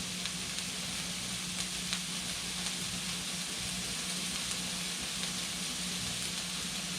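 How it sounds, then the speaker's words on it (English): Onions and green bell peppers fry steadily in a pan for a goose cheesesteak filling, giving a continuous hiss of sizzling oil with faint occasional crackles and a low background hum, and no talking. "we're going to cook this mixture until the onions are translucent and the green bell peppers will soften up a little bit"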